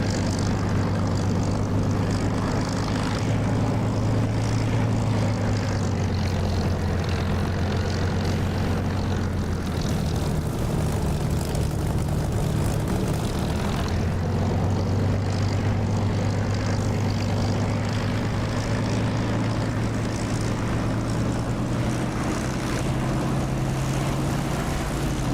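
Propeller aircraft engine roaring steadily through a takeoff run in the DCS flight simulator, a loud continuous drone with a low throbbing hum that shifts pitch slightly as power changes, with no talk over it.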